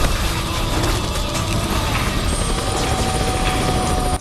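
Loud, continuous roar of aircraft engines passing overhead, a dense broadband rumble like fighter jets carrying pesticide sweeping low over an area, steady throughout with no talk.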